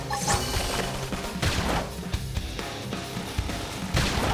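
Dense, loud bursts of gunfire and crashing impacts from combat in the video game Xenoblade Chronicles X. The shots come in clusters that keep going throughout, layered over game music.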